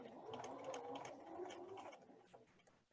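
A sewing machine stitches steadily along a marked line on a tea time placemat, a close, continuous mechanical whir with rapid needle ticking that eases off near the end.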